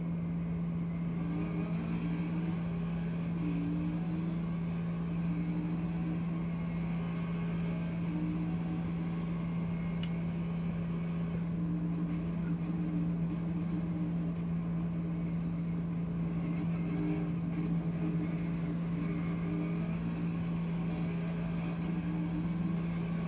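Onboard a NASCAR Xfinity race car on the Chicago street course: a steady, loud engine drone with a strong low hum runs throughout, with no talk over it.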